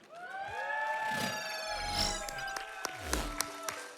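A large live audience at the AGDQ 2020 speedrun event cheers and shouts loudly for the Darkened Skye run, a sustained roar of voices with whoops rising and falling over about four seconds.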